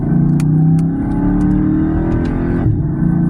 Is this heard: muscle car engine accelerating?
yes